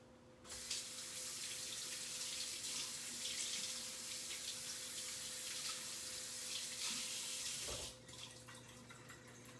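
Steady hiss of kitchen tap water running into a sink while vegetables are rinsed, close and continuous for about eight seconds before the flow cuts off and a brief splashing remains.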